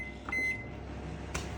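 A microwave oven heats cherry sauce, with a short beep-like tone near the start and a steady low hum running through, then a brief click or clunk near the end.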